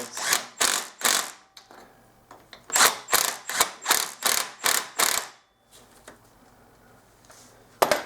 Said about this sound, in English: I'm going to whiz those in with my torque gun